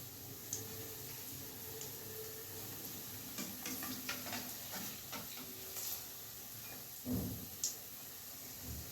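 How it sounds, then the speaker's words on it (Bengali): Pakoras frying in hot oil over medium heat make a soft, steady sizzle with light bubbling crackle and a few clicks and knocks of a utensil turning them, moderately quiet and close, no talk. "আঁচটাকে মিডিয়ামে রেখে এগুলোকে উল্টে পাল্টে ভাজবো, তাতে পকোড়ার ভেতরটাও বেশ ভালো মতো সেদ্ধ হয়ে যাবে।"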